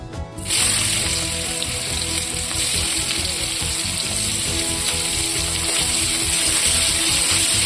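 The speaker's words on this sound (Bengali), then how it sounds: "এবার কড়াইতে দিয়ে দেবো পেঁয়াজ কুচি," Chopped onions dropped into hot oil in a wok, starting with a burst and then settling into a continuous loud, close sizzle and crackle for the rest of the span, with no talking.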